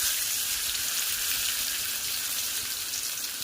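Pieces of raw jackfruit, boiled beforehand with salt and turmeric, fry in hot oil with a steady, hissing sizzle that runs unbroken and fairly close throughout.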